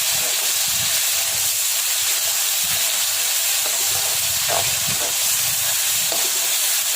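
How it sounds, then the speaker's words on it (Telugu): Continuous hissing sizzle from a hot pan as onion paste fries, with soft scraping and stirring sounds underneath, close and fairly loud. "ఆనియన్ పేస్టు దాంట్లో వేసుకున్నామండి. కలుపుకుందాం ఇప్పుడు మంచిగా."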